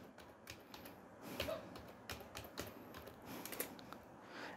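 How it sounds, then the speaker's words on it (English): A computer keyboard clicks softly as a username is typed, giving a quiet, irregular patter of key taps close by with faint room noise beneath. "Let's type our username here."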